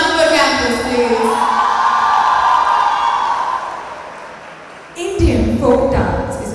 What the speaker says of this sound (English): Another huge round of applause for Christ University